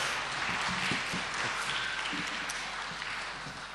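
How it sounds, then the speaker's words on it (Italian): Audience applause at an Italian talk show event for a charity match, a soft, steady wash of clapping from a crowd, slightly distant and fading a little toward the end. "Sì, facciamolo questo applauso."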